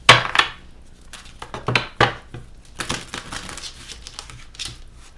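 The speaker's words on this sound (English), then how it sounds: "Let's pull a Witch's Kitchen Oracle card." Oracle cards from a Witch's Kitchen deck being shuffled and pulled up close: a loud flurry of sharp papery flicks and taps in irregular bursts, with no speech.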